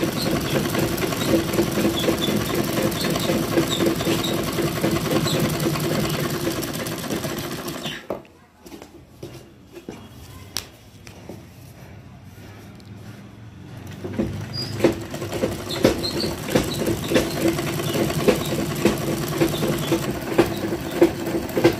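A sewing machine stitches a beltless salwar in a long continuous whirring run, quieting to a softer hum midway before resuming loudly with a rapid patter.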